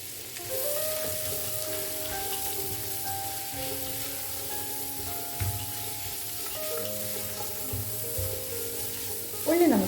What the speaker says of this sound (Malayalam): ഉള്ളി നമുക്ക് നന്നായിട്ടൊന്ന് വാട്ടിയെടുക്കണം.